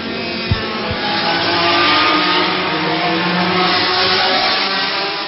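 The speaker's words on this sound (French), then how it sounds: "Les voitures qui sont parties un peu n'importe comment pour un tour de reconnaissance." Racing cars from the 1966 Formula 1 season at the French Grand Prix pull away for a reconnaissance lap, their engines roaring loudly and continuously. Two sharp thumps come near the start.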